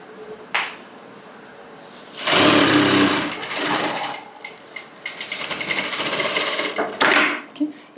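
A sewing machine stitches the curved crotch seam of salwar pants in a double-stitch pass, with loud bursts of rapid mechanical chatter separated by short pauses and a faint click before the first run.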